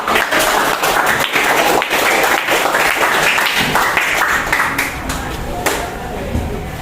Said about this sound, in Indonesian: berikan tepuk tangan buat kita semua